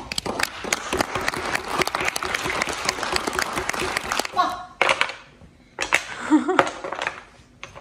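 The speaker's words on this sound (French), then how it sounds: "Et je peux vous applaudir." A group of children and adults applauds close by, with loud clapping for several seconds that then thins into scattered claps amid children's voices and talk.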